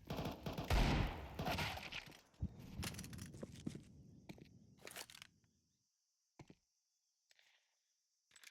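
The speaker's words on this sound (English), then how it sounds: "A couple of pot shots being taken here" Counter-Strike 2 gunfire on the Dust2 map during a Masters tournament match: a loud burst of rapid shots at the start, then scattered single shots and sharp cracks, thinning out into a few isolated pops with quiet gaps.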